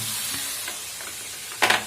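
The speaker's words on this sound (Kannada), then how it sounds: "ಚೆನ್ನಾಗಿ ಇದರಲ್ಲಿರೋ ನೀರೆಲ್ಲ ತುಂಡಬೇಕು, ಆ ಥರ ಫ್ರೈ ಮಾಡ್ಕೋಬೇಕು" Chicken pieces fry in a pan until their water cooks off, giving a steady low sizzle with faint stirring scrapes and a sharper, louder crackling burst near the end.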